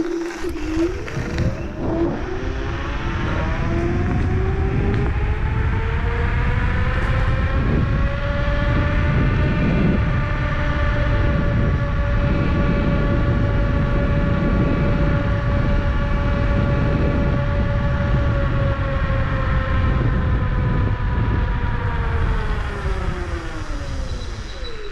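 A performance electric scooter descends a hill at about 33 mph, its motor whine rising in pitch and holding high, with heavy wind rush and road roar throughout, close and loud.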